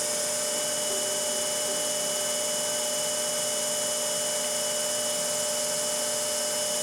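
A DC motor runs on a Warner Electric SE2105 drive with a steady electrical whine and hum, constant and close, with no change in pitch throughout.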